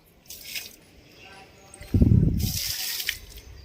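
Water is poured at home, starting as a short trickle and then turning into a fuller, splashing gush around the middle. Faint voices may sit underneath.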